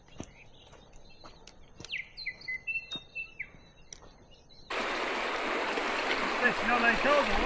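A river in New Zealand winter backcountry flows in a steady, close rush that fills the second half, after a quieter stretch of bird chirps and a few taps.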